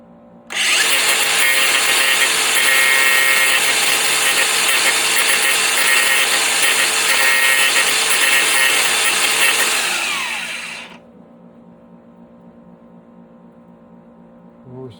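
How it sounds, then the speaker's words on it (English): Angle grinder grinding metal for a magnetic GoPro mount, one loud, steady, shrill grinding run of about ten seconds that starts abruptly and winds down, then leaves a low background hum. "I'm going to grind that there for a second, so just sound of it."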